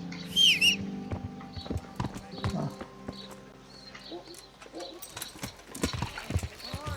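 Hooves clip-clop steadily on a path in the medieval role-playing game Kingdom Come Deliverance, with a horse whinnying and faint game sounds around it, a moderately close, continuous trot with no talking.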